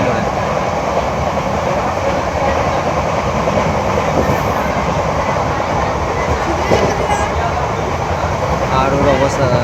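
Inside the ladies' compartment of a moving train at night, a loud, steady rumble and rattle of wheels and carriage fills the whole stretch without letting up.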